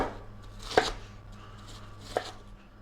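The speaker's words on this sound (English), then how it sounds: "we're just gonna chop this into kind of a crosshatch chunk" Knife chopping food on a cutting board in a home kitchen, two sharp distinct knocks about a second and a half apart over a quiet background hum.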